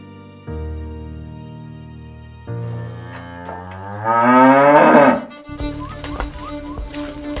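Dairy cows on a farm mooing in several long, drawn-out calls one after another, one rising into a loud strained bellow before cutting off, followed by a deeper low moo, all close and clear.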